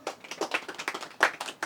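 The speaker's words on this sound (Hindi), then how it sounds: "ताली बजाओ भाई" An audience in an Indian classroom or lecture hall claps together after a correct answer, with steady rhythmic handclaps at close range and no talk over them.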